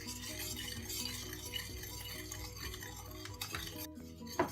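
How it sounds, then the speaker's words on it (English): Coconut milk with sugar is stirred in a pot, a spoon scraping and tapping against the metal in a steady rhythm over a faint simmering hiss, close and quiet. "2 tablespoons of sugar, and just stir it until it brings to boil."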